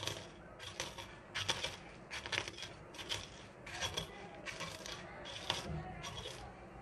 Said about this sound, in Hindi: अब बिस्किट को हम क्रश कर लेंगे। पूरा क्रश नहीं करना है